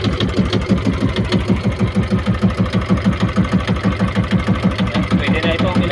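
A bangka fishing boat's engine with an electric starter runs close and loud, a fast, steady chugging pulse that never lets up, with voices faintly underneath.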